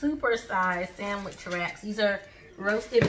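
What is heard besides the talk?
No everyday noises stand out.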